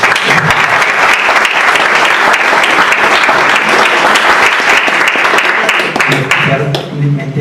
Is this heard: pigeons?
no